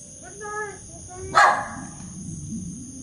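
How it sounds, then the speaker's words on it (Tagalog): A dog lets out one sharp, loud bark at close range, with a faint voice and light background noise around it in an outdoor camp setting. "Daming aso."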